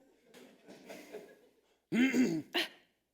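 Soft, muffled breathy sounds lead into a loud, close throat-clearing cough followed by one shorter cough.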